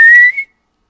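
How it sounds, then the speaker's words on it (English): A slide whistle plays one short, loud note that glides upward, sustains briefly and cuts off abruptly into silence. "Little slide whistle."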